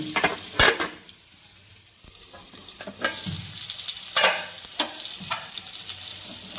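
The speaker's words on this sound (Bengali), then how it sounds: "আমার আলু পটলটা ভাজা হয়ে গেছে" Potato and pointed gourd fry in hot oil with a steady crackling sizzle, broken by several sharp scrapes and clinks as the pieces are stirred in the pan.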